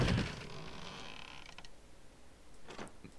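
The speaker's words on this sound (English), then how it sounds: "And let's just check the back door. I doubt it will open." A door creaks open in a horror video game: one loud, grinding creak right at the start, then a fading mechanical rattle and a quieter, brief creak near the end.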